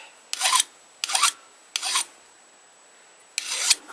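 A hand file is pushed along the blade of a friction clasp knife by draw filing, four separate rasping strokes with short quiet gaps between them, close and crisp.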